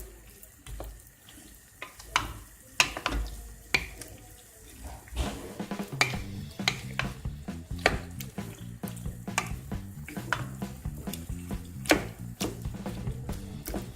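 Minced meat and onions frying in a pan, sizzling steadily with repeated scraping and clacking of a utensil as the mixture is stirred, close and fairly quiet.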